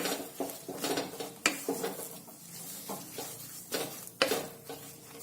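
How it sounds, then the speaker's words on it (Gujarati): A spoon stirs jaggery as it melts in a pan over a low flame, giving a run of irregular scraping and clinking strokes close by over a faint background hiss, with no voices. "અને આપણો આ ગોળ થોડો ઓગળે તેટલી વાર સુધી જ આપણે ધીમા ગેસ પર તેને રાખીશું. આ રીતે મિક્સ કરીશું."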